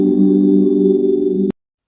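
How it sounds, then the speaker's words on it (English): A low, sustained synth tone made from a pitched-down Minecraft sample with reverb hums with a steady, spacey drone and faint high overtones, then cuts off abruptly. "And now we have a spacey synth."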